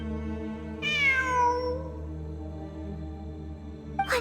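A cat meows in the Genshin Impact video game, one drawn-out, clear meow rising then falling, close and prominent over a steady low musical drone, followed by a brief start of another call at the end.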